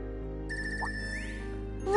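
A phone in the video game Trails of Cold Steel 3 rings with a bright electronic ringtone, repeating tonal chimes that sound clearly and alone against a soft musical background.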